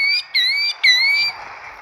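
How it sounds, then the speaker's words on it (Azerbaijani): A bird gives three loud, harsh squawks in quick succession, close and clear, the last one trailing off into quiet background. "Quşun da səsi belə gəldi."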